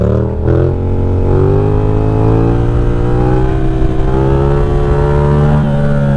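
A powerful, high-torque Kawasaki Z750 (07) motorcycle engine revs hard and steadily at close range during wheelie practice, its loud droning tone rising slowly with no speech over it.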